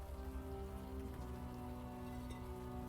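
Steady rain pours in the adventure game Unavowed, a dense continuous hiss of drops with a low ambient hum beneath, filling the scene evenly without breaks.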